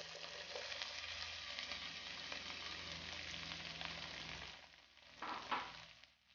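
A small bell pepper fries in a pan, giving a steady, dense sizzle that holds for about five seconds, then dips briefly and flares again with a sharp crackle near the end, as if stirred.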